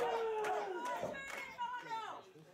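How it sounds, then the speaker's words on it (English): A crowd at a wrestling match between Mike Mondo and Biff Busick yells and screams in a loose, uneven roar, with individual voices rising above the din; fairly faint and distant. "The crowd screaming for him to quit, except for the Mike Mondo fans who are screaming, no, no, no."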